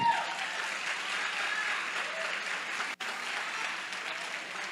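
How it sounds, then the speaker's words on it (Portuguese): Church congregation at a communion service gives a steady, distant-sounding round of applause, a soft wash of clapping that continues evenly with one brief dropout partway through. "Dê um aplauso ao Senhor."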